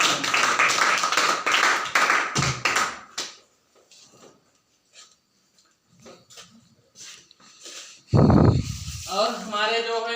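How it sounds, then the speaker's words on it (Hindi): Audience clapping in two short loud bursts at a product demonstration in India, separated by quieter stretches with scattered voices and talk. "मैं चाहूंगा कि हमारे दो मित्र के लिए जोर का ताली बजाएं"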